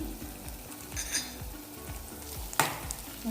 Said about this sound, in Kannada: ಚೆನ್ನಾಗಿ ಫ್ರೈ ಮಾಡ್ಕೊತಾ ಇದ್ದೀನಿ.